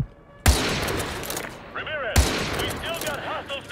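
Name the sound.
gunshots in Call of Duty: Modern Warfare 2 video game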